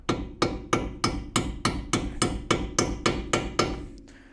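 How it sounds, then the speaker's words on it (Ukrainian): Eleven sharp metallic hammer taps on a bolt in a car brake caliper, in a steady rhythm, close and loud, each strike ringing briefly before the next. "Беру молоточок і пробую її для початку забити всередину"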